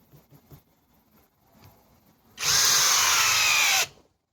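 A Kreg 4-amp drill/driver drives a screw in one loud, close burst of high-pitched motor whine lasting about a second and a half, preceded by faint handling taps and a brief quiet.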